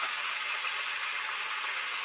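Chopped tomato hits hot oil with fried potato and stalk vegetables, giving a steady, even sizzling hiss that stays close and constant throughout, with no voices.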